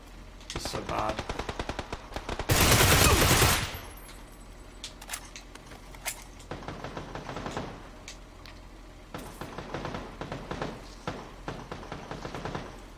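Rapid automatic gunfire from the video game PUBG on Xbox One rattles in repeated bursts, with one loud sustained blast early on, while a player speaks in between.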